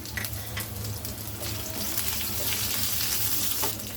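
Chopped ginger, green chillies and nigella seeds frying in hot oil, a loud, close crackling sizzle with watery spatter that continues steadily throughout, with no voices.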